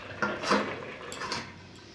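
A lid is set onto a cooking pot of rohu fish curry with okra, giving a couple of soft metallic clinks and a light clatter at close range in a quiet kitchen.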